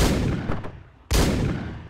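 Gunshots in the video game Hotline Miami, two loud, close, harsh blasts about half a second apart, then a short lull before a third heavy blast.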